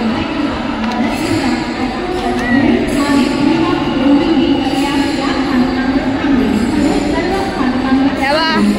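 A Mumbai local train bound for Kalyan hums and rumbles steadily as it pulls away from Chhatrapati Shivaji Maharaj Terminus, with a crowd murmuring and people talking over the continuous rolling noise.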